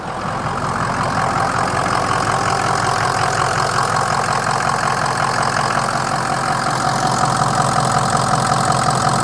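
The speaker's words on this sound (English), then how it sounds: "You can hear a lot of turbo on this one." A 2004 Ford Excursion Limited with a 6.0L Powerstroke diesel and 4WD idles steadily up close. Its rattling diesel clatter sits under a sustained turbo whine, loud and unbroken, with no voices.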